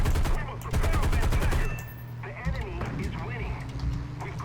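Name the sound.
aircraft gun fire in War Thunder video game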